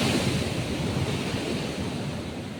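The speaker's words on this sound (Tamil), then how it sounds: "இது அல்லவா beach, the cleanest beach ever I have seen." Waves wash steadily onto the beach at Kanyakumari in a continuous broadband roar. Wind buffets the microphone throughout, and no one speaks.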